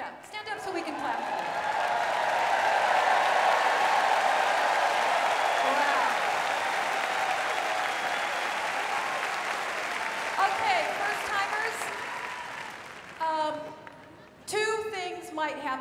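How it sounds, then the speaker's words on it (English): An assembly hall full of delegates applauds first-time attendees, the clapping swelling to a broad roar and holding steady before fading as voices and talk return near the end. "Stand up so we can clap"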